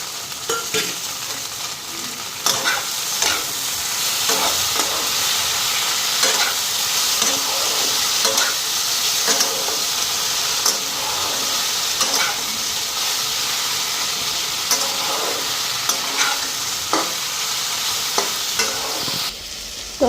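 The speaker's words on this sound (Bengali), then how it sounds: "এইদিকে ভেন্ডি ভাজাটা মোটামুটি হয়ে আসছে" Okra fries in oil in a pan, a loud continuous sizzle with crackling pops and occasional stirring scrapes throughout, heard close with no speech.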